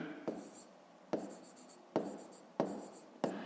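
A pen or chalk writing out a fifth-grade maths exercise by hand: five sharp taps, each followed by a brief scratching stroke, spaced about a second apart, close and quiet with no talking over them.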